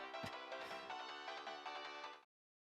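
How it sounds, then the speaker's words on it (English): A bright electronic phone ringtone in the game Steins;Gate, with a melodic, chiming pattern, plays for about two seconds, then abruptly cuts off to silence. "The ringtone cuts off during my hesitation."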